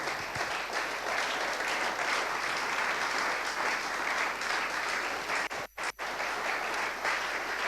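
A church congregation applauding loudly during a Saturday worship service, dense sustained clapping that fills the room, then two brief drops near the end as it tails off.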